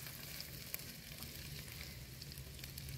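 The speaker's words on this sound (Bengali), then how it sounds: "পেঁয়াজটা ঠিকঠাক ভাজা হলো কিনা একটু দেখে নিই" Onions frying in a pan give off a steady, dense sizzle that holds evenly throughout, close by and with no talking.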